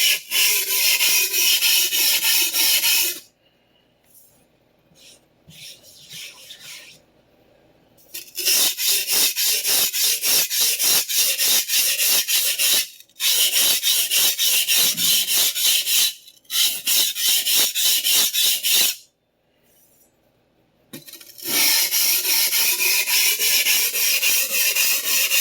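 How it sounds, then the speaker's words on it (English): A vintage Clyde Cutlery chef knife is drawn along a sharpening stone in a slurry, giving rapid rhythmic rasping strokes in long close bursts separated by short quiet pauses. "I'm going to do a few more passes on each side of the knife for about the first 8 inches of the blade or so"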